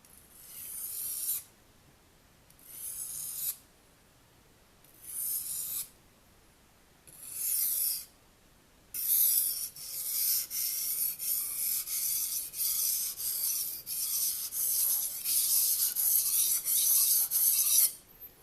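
A knife blade scrapes in slow, even strokes across a sharpening stone, four separate rasping passes followed by a quicker continuous run of back-and-forth rubbing, close and clear with no talk.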